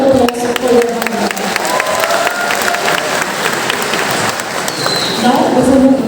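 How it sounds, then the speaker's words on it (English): A university audience gives a loud, sustained round of applause for Department of Education students at a Thanksgiving celebration, dense clapping that swells again near the end. "may I please request all the audience to please give one more round of applause for their hard work"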